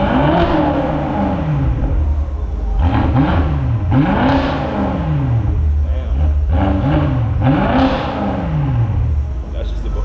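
A BMW X5 M engine with stock exhaust idles roughly, then revs up several times in repeated surges, loud and close, with a low rumbling exhaust between the bursts.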